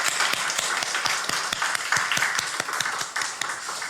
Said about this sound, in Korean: 여러분 다시 한번 크게 한번 박수해 주십시오.